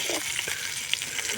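Food frying in a pan over a camp stove at a nomad camp, a steady soft sizzle with faint crackles and small pops, fairly quiet and without talk.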